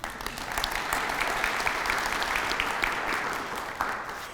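Sustained audience applause at a career fair, a steady even wash of many hands clapping throughout, moderately loud, with no talk over it.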